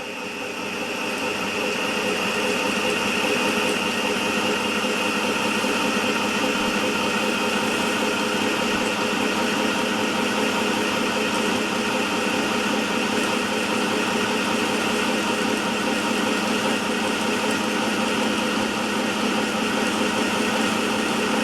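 A Singer M1000 sewing machine winds a bobbin with a steady, high-pitched motor whir that holds constant and loud for the whole stretch, with no talk.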